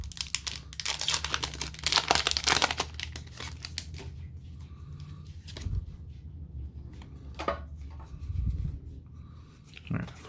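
Pokémon card booster packs being torn open, wrappers crinkling and rustling loudly up close in a dense burst at first, then sparser handling crackles and soft rustles.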